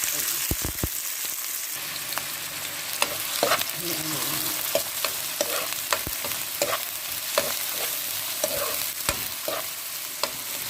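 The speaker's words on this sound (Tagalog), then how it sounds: "Hintayin lang na mag-brown or maluto konti yung sibuyas" Sliced onions fry in hot oil in a pan, giving a steady, close sizzle broken by sharp clicks and scrapes as they are stirred.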